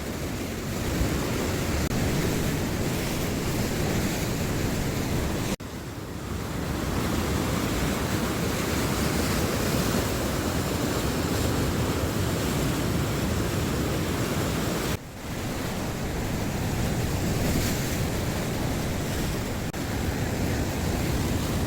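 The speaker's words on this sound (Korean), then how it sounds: "오늘 파도가 좀 높네요." Ocean surf on a high-wave day at the beach at sunrise: breaking waves roar in a continuous, loud wash of broadband noise, with wind buffeting the microphone and no voices.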